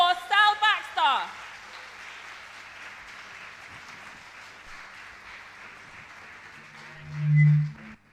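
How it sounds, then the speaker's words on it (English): Audience at a 2021 Black hair science event applauding a speaker, a sustained wash of many hands clapping after a brief shout or whoop at the start, with a low hum near the end. "Can we give a big round of applause for Sal Baxter?"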